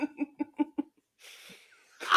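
A sneeze bursts out after a short run of rhythmic voiced sounds, followed by breathy noise and a loud close exclamation at the end.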